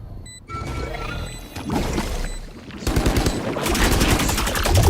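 Game gunfire in Valorant shot through a wall, a series of muffled cracks and rattling bursts building into a dense, loud volley near the end, with no talk over it.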